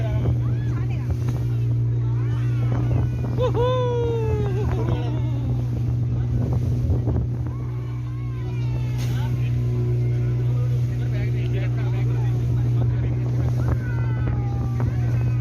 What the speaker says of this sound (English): See the power boat